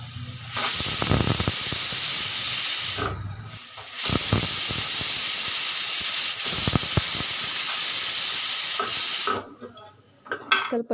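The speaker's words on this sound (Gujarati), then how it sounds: "હવે એને હું 4 વિસલ થવા દઈશ, ત્યાં સુધી રાખીશ" A pressure cooker whistles while cooking Kathiawadi dhaba-style stuffed brinjal curry, giving two loud, sustained hissing blasts of steam separated by a short pause, then a quieter stretch of faint rattles.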